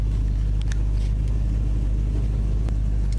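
A Ford Mustang Mach 1 idles with a deep, steady, loud engine rumble, a low throbbing tone with a few faint clicks on top.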